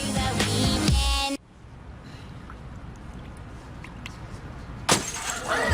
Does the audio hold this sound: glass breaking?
yes